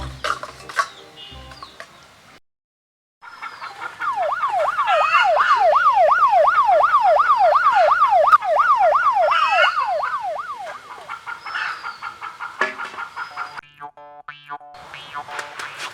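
A loud wailing ambulance siren with a fast up-and-down warble sweeps past, rising and then fading, with brief voices before and after.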